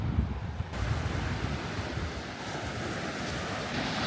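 Ocean surf washing onto a white-sand beach with clear water at Esperance, Western Australia, a steady broadband roar of breaking waves mixed with gusty wind buffeting the microphone.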